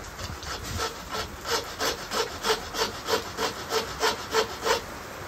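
A handsaw cutting through board in steady back-and-forth strokes, about a dozen rhythmic rasps growing slightly louder and evenly paced.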